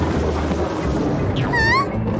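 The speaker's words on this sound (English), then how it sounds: "It's a stormy night." Thunder rumbles through a stormy night in a cartoon scene, a low, continuous roll under steady rain-like noise, with a brief high tonal cartoon effect near the end and no speech.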